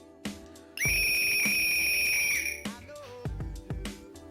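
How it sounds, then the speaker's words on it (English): A Disruptive Whistle blown in one long, loud, steady shrill blast lasting nearly two seconds, with short bursts of talk before and after it. "So I initially ordered this Disruptive Whistle."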